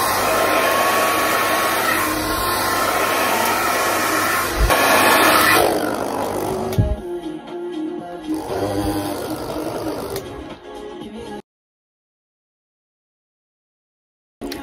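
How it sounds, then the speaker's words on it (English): A hair dryer blows with a steady whirring hum, loud and close, shifting in tone as it moves, then cutting off into silence. "They're wet and then just with a hairdryer."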